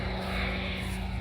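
A propeller airplane flies overhead at the 2022 Retro Rides Weekender car show, giving a steady, fairly loud engine drone with low buzzing tones that holds evenly throughout the short moment, with no voices.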